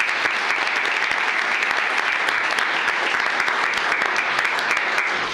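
A room full of people at a county commissioners court meeting applauds employees being recognized, dense, steady clapping that holds at an even loudness for several seconds, with no speech over it.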